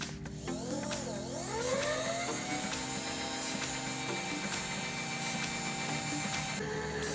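A milling machine's X-axis power feed motor runs steadily on its first test, a close mechanical whir and hum with shifting tones, a rising and falling pitch sweep, and faint clicks, with no talk.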